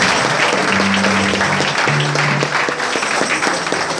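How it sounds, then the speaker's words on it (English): A church congregation claps together in praise during a lively worship service, a loud, dense, sustained round of hand clapping with no speech over it. "give the Lord a good clap of hands"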